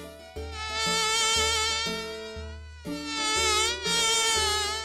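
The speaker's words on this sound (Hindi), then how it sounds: "ये क्या, इतने सारे मक्खी और मच्छर?" Flies and mosquitoes buzzing around a roadside dhaba: a loud, continuous high-pitched whine that swells and fades in waves over a low steady drone, with no voices.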